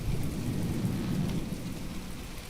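Steady heavy rain with a deep rolling rumble of thunder in the naval combat game From The Depths, a dense continuous downpour without a break or any voices.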